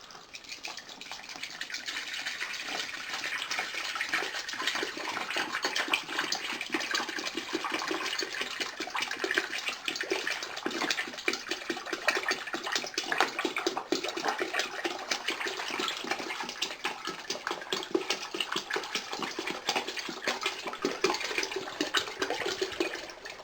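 Spring water gushes and splashes continuously for a long stretch during homemade autumn olive wine making, a steady broadband pour with no voices.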